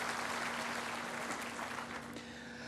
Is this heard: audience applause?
yes